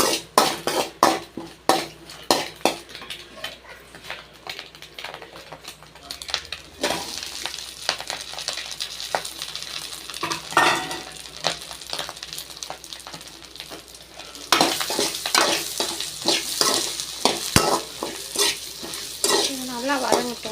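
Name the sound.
spices frying and being stirred in oil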